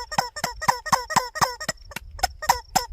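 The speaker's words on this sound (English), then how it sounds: "We're gonna beat our chicken against the optic." A squeaky rubber chicken toy is beaten against a gun optic, letting out about eleven sharp, honking squawks in a quick steady rhythm with one brief pause.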